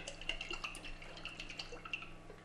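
Olive oil poured in a thin stream into a hot pan, faint close sizzling and dripping crackles scattered over a quiet steady kitchen hum, with no one talking.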